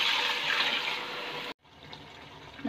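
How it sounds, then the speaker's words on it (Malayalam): Beef stock is poured into a pan of simmering gravy as a steady, close liquid splash and gush that stops abruptly partway through, leaving a quieter bubbling simmer. "ഇതിലേക്ക് ബീഫ് വെന്ത വെള്ളം ഒഴിച്ചു കൊടുക്കാം."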